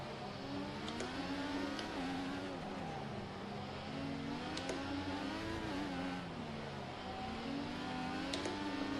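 A Red Bull Formula 1 car in a racing video game on full-simulation settings, its engine a steady, moderately quiet whine with a few brief high squeal streaks as it slides and brakes, no talk.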